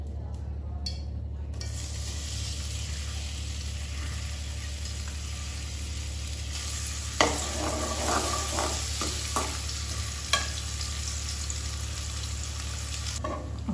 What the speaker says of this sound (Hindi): हुण आपां इहदे विच प्याज ऐड कर दांगे।